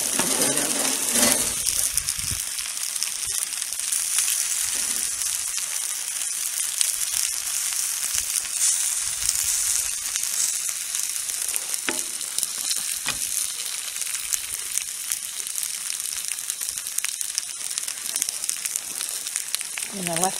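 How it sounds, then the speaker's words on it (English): Skin-on potatoes fry in a pan with a dense, loud, continuous sizzle, broken by occasional clinks and scrapes close by, and no clear talk. "And I let that fry up and get a golden brown."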